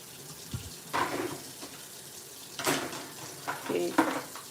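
Kitchen tap running warm and cold water in a home kitchen, splashing in several short bursts with pauses between, close by, while a person talks.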